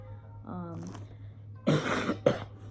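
A man coughs several times in a small indoor room, a cough he carried with him from New York: a short throat-clearing sound followed by two harsh, loud bursts close to the mic over a steady low hum.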